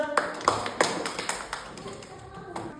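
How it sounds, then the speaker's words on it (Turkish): Children in a classroom counting game clap for their classmates, a few sharp scattered claps that thin out and fade, with a faint voice underneath. "Dostlarınızı alkışlayın."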